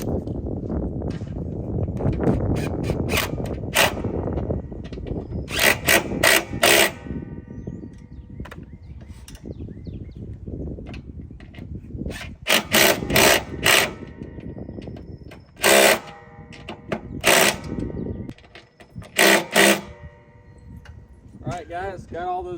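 Bursts of an impact wrench fitted with a 1/2 inch socket tightening bolts on a BadBoy Revolt SD mower chute kit, several loud short rattling runs spaced over steady background noise, with a person talking at points.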